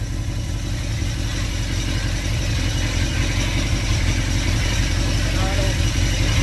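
A newly built car engine with a high-flow fan shroud idles warm, a steady, fairly loud mechanical run with even clatter throughout.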